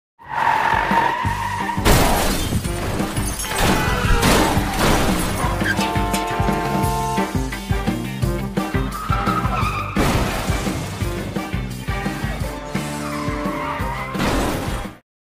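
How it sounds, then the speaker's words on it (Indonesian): A bus slams into a fleeing man in a Korean action-comedy film scene, setting off a multi-car pile-up: loud, dense tire skids and squeals with crashing impacts run continuously, layered over a full soundtrack. "dia malah ditabrak bus dan menyebabkan kecelakaan beruntun"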